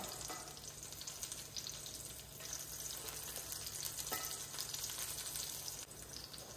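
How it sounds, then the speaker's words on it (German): Mushrooms fry slowly in a pan on a low heat, giving a steady, dense sizzle and crackle throughout, with faint stirring and scraping and no voices. "schön langsam weiterbraten auf einer ganz geringen Stufe. Drehen wir die Pilze noch einmal."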